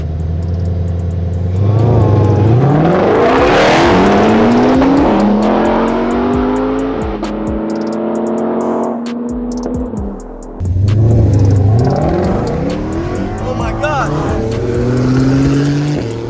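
A supercharged Ford Mustang Shelby GT500 and a Porsche 911 GT2 RS race, engines revving hard through rising gear pulls, loud and close, with a brief lift between shifts before the acceleration builds again.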